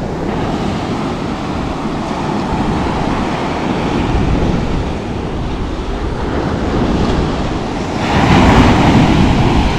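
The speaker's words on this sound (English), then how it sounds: "When the water gets loud, it's like you get a sense for how powerful the tide is." Ocean surf in Cabo rolls and crashes steadily near the shore, wind buffeting the microphone, with a louder surge breaking toward the end.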